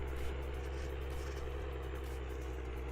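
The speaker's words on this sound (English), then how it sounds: "I like the sound of this tractor." A farm tractor in Farming Simulator 22 idles with a constant low, rumbling engine drone that runs evenly throughout with no other sounds.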